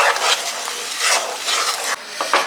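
A spoon stirs melting jaggery and powdered cardamom in a pan for peanut candy, giving a steady, close scraping and bubbling sizzle that runs continuously without talk.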